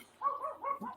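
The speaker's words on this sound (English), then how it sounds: "And a dog barks." A dog gives a short run of three or four quick barks and yips, faint and slightly distant, over about a second with no talk.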